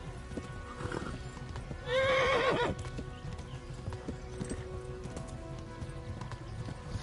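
Rhythmic hoofbeats of a galloping horse in Kingdom Come: Deliverance keep a steady pace, with a loud whinny cutting in early on.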